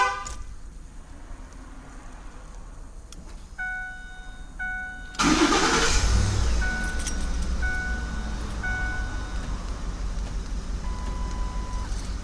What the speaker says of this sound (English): Now, both remotes will activate the remote starter on 3-press.